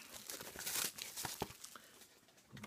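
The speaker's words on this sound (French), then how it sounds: "Je vais vous le déballer." Plastic shrink wrap being torn and peeled off a Blu-ray case of The Happytime Murders, close and fairly quiet, with a run of crinkling and a few sharp tearing rips.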